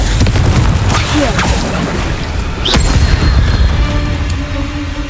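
A Confringo blasting spell explodes in Hogwarts Legacy on Hard difficulty, a loud booming burst over dense, rumbling combat noise, with a sharp crackle near the end of the blast.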